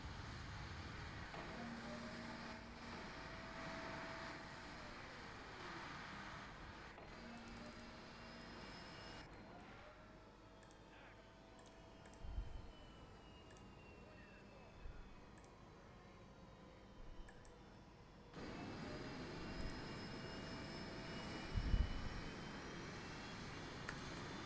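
Jet engine of a ground-attack plane coming in to land in a Cold War combat video game, a steady broad roar with rising and falling engine whine and a few dull thumps, heard alone without talk.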